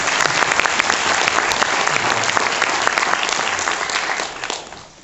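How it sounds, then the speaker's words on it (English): Loud, dense applause from an audience welcoming an Abraham Lincoln reenactor at an Olustee event in Lake City, a sustained roar of clapping that fades out over the last second. "Please give him a round of applause"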